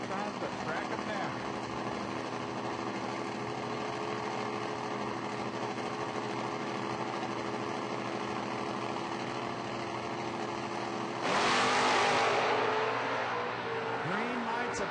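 A Chevy Camaro and a Ford Mustang drag racing at a footbrake event, their engines droning steadily under a commentator's voice, with a louder, brighter surge of engine noise near the end.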